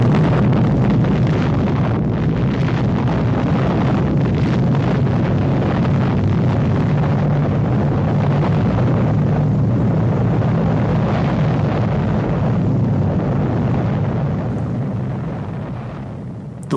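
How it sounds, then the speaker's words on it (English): A massive bomb detonating over London, a loud, sustained low roar and rumble that blankets everything for many seconds before slowly fading at the end, with no voices. "One of the bombs was allowed to detonate over London"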